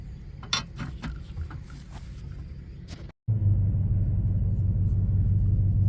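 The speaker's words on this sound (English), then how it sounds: "I probably woke a lot of people up with my loud motor" A loud motor runs steadily as the owner leaves a boat race weekend early on a Sunday morning: a continuous low droning rumble with a firm hum, preceded by rougher clattering rumble before a brief cut, with no talking.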